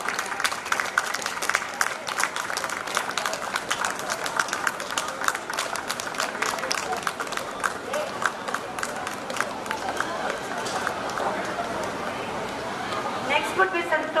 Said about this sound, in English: We can let the clapping going on.